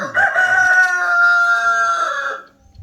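A rooster crows once, loud and close, one sustained cock-a-doodle-doo lasting about two seconds and trailing off into quiet.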